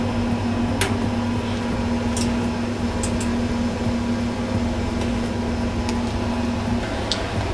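A film projector runs with a steady mechanical hum and whir, with a few faint clicks and knocks from the machine over the continuous drone.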